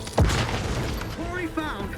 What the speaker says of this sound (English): Dude, I'm so over the grenades.